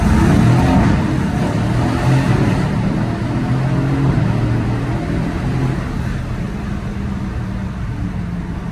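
A Mercedes-AMG GT S engine roars and revs loudly in a tunnel, a deep booming drone that slowly settles to a steady rumble.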